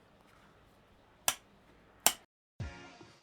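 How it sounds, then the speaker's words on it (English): Three sharp hand claps a fraction of a second apart, close and crisp in a quiet room, the last one trailing into a burst of noise as a small group sets off the start of a whisky-tasting podcast. "Clap us in."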